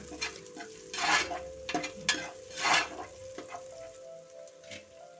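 Curry leaves stir-fried in a pan while making meal maker (soya chunk) biryani, with bursts of sizzling and crackling and intermittent scraping as they are stirred, close and fairly quiet, with no talking.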